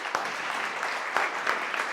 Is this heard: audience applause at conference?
yes